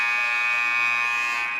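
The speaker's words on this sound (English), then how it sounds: "And there is the second buzzer." A basketball game buzzer sounds in the gym during a men's college game between MSJ and Defiance College: a loud, sustained electronic tone that holds steady for over a second and a half.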